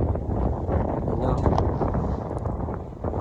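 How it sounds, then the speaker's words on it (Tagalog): Wind blowing by a river, rumbling on the microphone in steady low gusts with faint splashy water texture mixed in, loud and continuous throughout. "Basta yung hangin dito, super saya."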